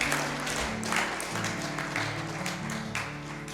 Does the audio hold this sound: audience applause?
yes